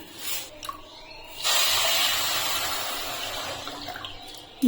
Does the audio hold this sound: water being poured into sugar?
yes